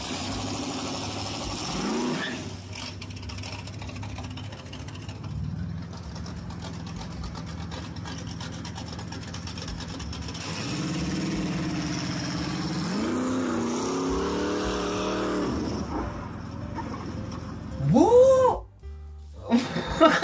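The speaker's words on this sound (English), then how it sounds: "someone drives past and revs their engine at you" A passing car revs its engine in a rising, sustained roar, with a steady engine drone before it and a short sharp burst near the end, with no talk over it.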